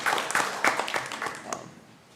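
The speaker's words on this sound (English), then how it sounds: "Can I get a round of applause for teachers and those folks?" Light, scattered clapping from a small audience at a town planning commission meeting, a couple of seconds of uneven claps fading out quickly.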